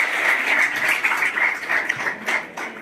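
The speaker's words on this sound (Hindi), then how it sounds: "जोरदार तालियों से" A school audience claps warmly for a girl awarded first place in class 6 at a government senior secondary school prize ceremony in Palampur, Himachal Pradesh; dense, steady applause from many hands, close and continuous.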